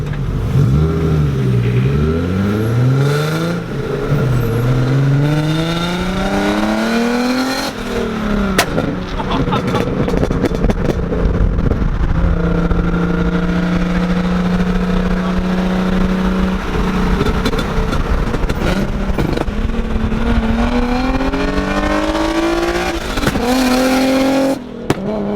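A modified Jeep with a loud aftermarket exhaust revs and accelerates repeatedly, its engine note rising and falling in harsh, ear-piercing sweeps, heard close up while following it after leaving a gas station.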